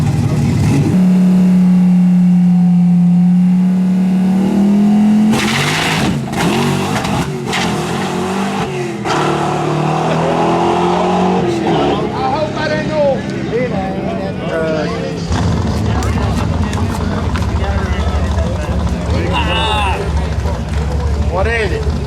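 Nitrous-equipped Ford Fox drag race car roaring loud and close, its engine holding a steady drone before surging and revving up as it accelerates, with an announcer talking over it throughout.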